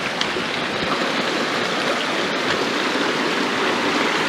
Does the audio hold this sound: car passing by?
no